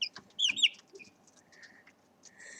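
Tightly housed chickens cluck and squawk in short, scattered bursts, fairly faint and a little distant against a quiet background.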